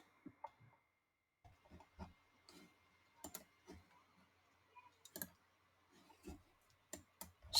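Python code being typed on a computer keyboard: sparse, crisp key clicks in small irregular clusters, close by, with brief silent gaps and no speech.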